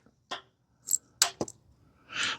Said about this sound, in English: That's the starter, the carburetor solenoid clicking over there.